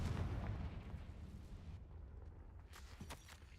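A Confringo blasting spell explodes in the Hogwarts Legacy video game: a loud, heavy boom rumbles for about a second and a half, then fades into a quieter, crackling tail with a few faint pops.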